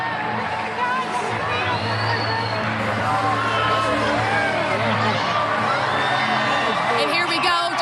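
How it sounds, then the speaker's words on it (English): A large outdoor crowd cheers and whoops during the 2017 total solar eclipse, sustained excited hubbub with scattered shouts and whistles, a nearby voice talking over it. "You can hear the crowd here."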